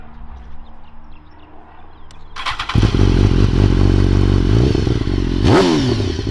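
A motorcycle with a full exhaust fires up and idles with a deep, loud exhaust rumble, then gets a sharp rev before settling back to a steady throb.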